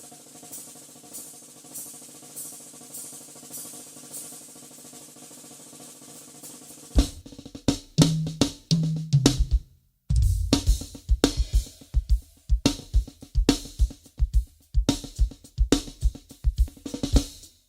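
Drum kit playing a solo that opens with steady hi-hat ticks, then breaks into loud, busy snare and tom hits with crashes, close and unaccompanied.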